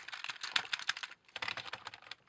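Keys clatter in fast, uneven bursts on a one-handed RGB gaming keyboard with a wrist rest, a brief pause splitting two close, crisp runs of typing with no voices.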